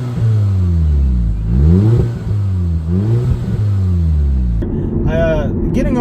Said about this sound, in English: Getting on the gas, you can hear the turbo spool up